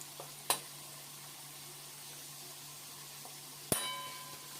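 Steady sizzling of potatoes frying in a pan, broken by two sharp metallic clanks from a utensil hitting the pan.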